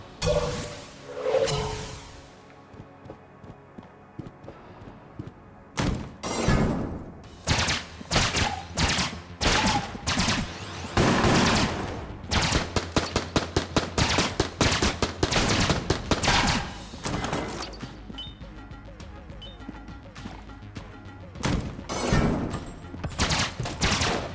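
Rapid gunfire from a semi-automatic burst-fire weapon in the Enter the Gungeon game on PS4 rattles out in loud clustered bursts, mixed with whooshes and impacts and broken by brief pauses.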